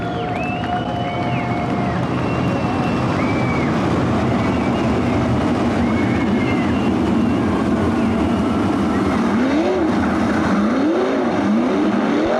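410 sprint cars race at Attica Raceway Park, a loud, continuous roar of engines with rising and falling pitch as the pack sweeps past, heavy wind buffeting throughout.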